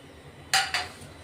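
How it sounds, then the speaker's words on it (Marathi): Drumstick pods dropped into a pot of hot water for a village-style vegetable dish, giving two sharp clinks and splashes in quick succession against a quiet background. "त्याच्यात आपण आता शेवगा टाकून घेऊ."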